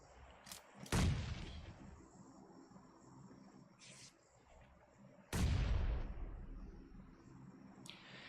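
Two grenade blasts go off in a competitive shooter tournament match, each a sudden loud boom with a decaying rumble, a few seconds apart over low ambient game noise.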